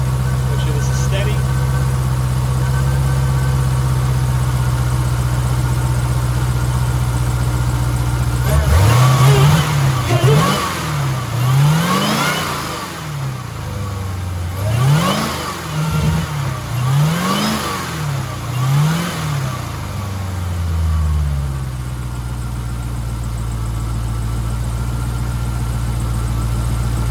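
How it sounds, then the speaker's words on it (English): A Dodge Durango Hellcat engine idles steadily, then takes a quick series of sharp revs that rise and fall in close succession before settling back to a low, even idle; close and loud. "I'll even give it a couple of revs."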